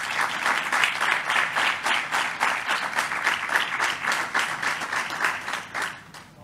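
Applause from an audience at a civil protection recognition ceremony, a sustained crowd of clapping hands with a loose pulsing rhythm, steady and moderately loud before fading at the end.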